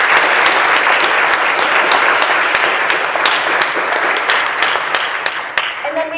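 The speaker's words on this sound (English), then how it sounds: "so big round of applause to them." Audience applause at a National Merit breakfast, dense and steady clapping from a room of people that carries on for several seconds before tapering off, with faint voices at the end.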